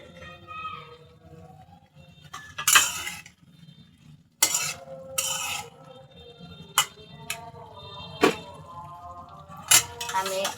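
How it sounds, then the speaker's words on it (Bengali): Potatoes are sautéed and stirred in a pan for a Bengali tengra fish curry with tomato. A spoon clinks and scrapes against the metal in uneven bursts over a low background sizzle. "এবার আলুটা আমি কষিয়ে নিচ্ছি।"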